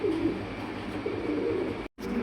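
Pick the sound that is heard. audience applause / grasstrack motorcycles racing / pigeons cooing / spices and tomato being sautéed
pigeons cooing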